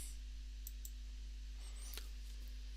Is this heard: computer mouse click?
yes